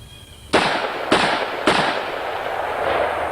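Three loud, sharp gunshots from a .357 Magnum revolver firing full-charge 140 grain Sierra loads, spaced about half a second apart, each with a ringing tail.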